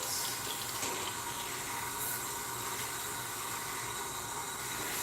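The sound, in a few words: water running while rinsing out hair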